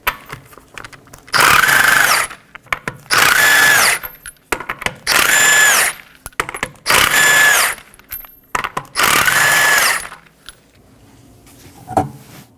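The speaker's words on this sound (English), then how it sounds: "I'll be using a 21mm socket to remove the 5 lug nuts." Power tool spinning a 21mm socket on the five lug nuts of a Nissan Maxima rear wheel: five loud, evenly spaced bursts of whirring, each about a second long, followed by metallic clinks between them.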